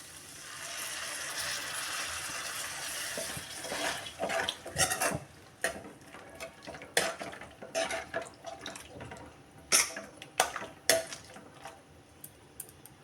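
Water pours and splashes into masala khichdi in a cooking pot, a soft trickle followed by irregular clinks and splashes with brief sharp knocks, fairly quiet and close.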